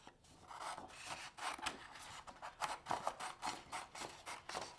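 Scissors cutting a sheet of blue paper in half, a faint close rasping crunch of repeated snips and paper rustle, steady and quiet with no talking.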